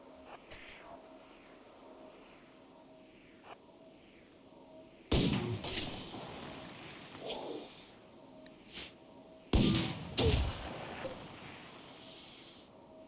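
An auto mortar in RimWorld fires two loud booming shells a few seconds apart, each with a hissing tail, over a quiet background of soft game music and ambience.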